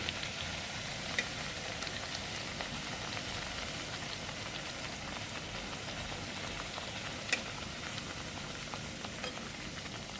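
Semolina snacks deep-frying in a pan of hot oil give a steady, dense sizzle and crackle, close and fairly loud, with a couple of sharper pops and no voices over it.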